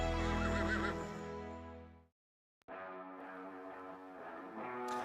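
A horse at a racetrack gives a loud, close whinny that breaks off into a brief silence, followed by another long, shaky neigh.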